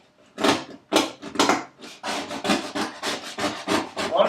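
A flat metal tool scraping old finish off a tin ceiling: rhythmic, close rasping strokes, about a dozen in quick succession, with brief pauses between scrapes and no talk.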